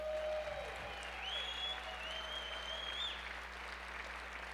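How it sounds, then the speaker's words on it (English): An audience at a school fundraising auction applauds, a steady, even wash of clapping at moderate level with a few cheers and whoops rising over it. "Let's give ourselves a round of applause."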